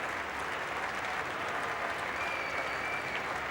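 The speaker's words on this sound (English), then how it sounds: "A very good ovation from the crowd for the young Indian bat." A cricket crowd at a Test match between India and Australia applauds an ovation for a young Indian batsman, steady, dense clapping from a large stadium audience that carries evenly throughout without a break.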